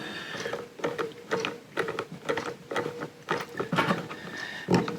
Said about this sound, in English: we're going to screw this down as well